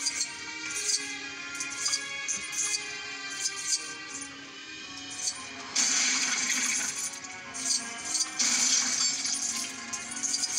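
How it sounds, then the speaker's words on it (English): Bright metallic jingles of coins spilling and clinking in quick bursts in the video game Lego Dimensions, several clusters in a row, over a faint background hum. "A lot of coins."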